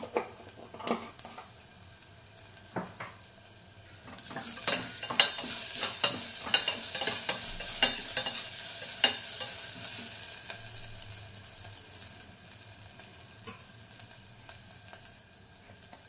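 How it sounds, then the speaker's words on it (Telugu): Onion frying with ginger garlic paste in a pan, sizzling steadily up close and growing louder partway through, with repeated spatula scrapes and taps against the pan as it is stirred. "ఆనియన్ ఇట్లా వేగాయండి. నేను ఇందులోకి అల్లం వెల్లుల్లి పేస్ట్ వేసాను."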